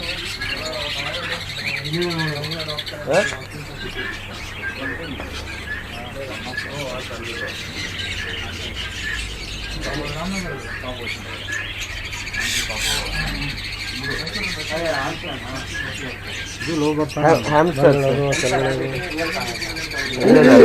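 Lovebirds and African parrots in a pet shop give off scattered squawks and chirps, loud at moments and softer at others, mixed in with steady background noise while people talk nearby.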